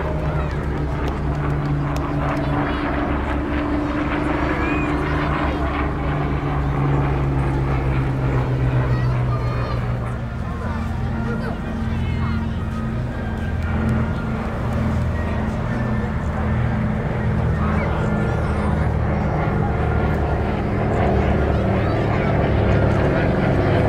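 A C-47 aircraft flying a display at Bournemouth Air Festival drones steadily with a low propeller hum, rising and falling slightly as it passes, while an announcer commentates throughout.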